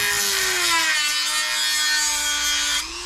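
A cutting tool slices through a truck panel while a custom speaker grill opening is carved into a 90s Chevy C1500 sport truck, giving a steady, close, continuous rasping whine that holds for about three seconds before easing off at the end.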